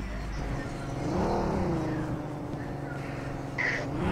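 A vehicle engine in the mobile battle royale game BGMI hums and whirs steadily, swelling briefly as it revs, with a short electronic game chirp near the end.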